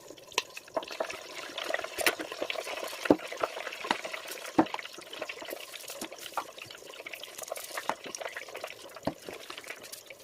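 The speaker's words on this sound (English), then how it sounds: "let's deep fry it to see what happens" Vegan fish sizzles in grapeseed oil in a deep-fryer basket, a steady bubbling hiss broken by sharp pops and crackles, fairly close and alone.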